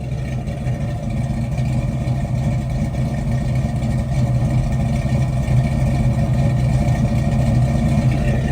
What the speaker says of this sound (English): Just listen to that exhaust note.